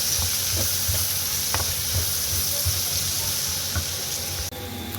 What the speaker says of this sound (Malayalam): ഇളക്കി യോജിപ്പിച്ചെടുക്കാം